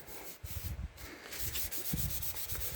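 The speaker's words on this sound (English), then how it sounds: "So I'm going to put this on here. Rub it down." Magazine paper pieces being rubbed down by hand onto a journal made from junk mail, a close dry scratchy rubbing in uneven strokes that grows more continuous after the first second.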